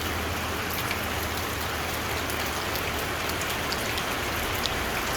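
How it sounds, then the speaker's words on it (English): Heavy tropical rain in a Philippine backyard during the rainy season, a steady dense hiss of drops hitting surfaces, with occasional louder close splats and a low rumble beneath, continuous and unbroken throughout. "This is my backyard view here of the heavy rain."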